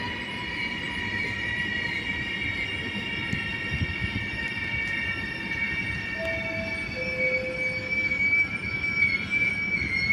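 Train pulling into a platform at Padova station, with sustained high-pitched wheel squeal over a continuous rolling rumble, several shrill tones shifting and overlapping throughout, loud and close.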